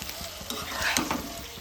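Cauliflower masala sizzles in a pan while a spoon stirs it, soft scraping strokes over a steady, fairly quiet frying hiss, with no talk.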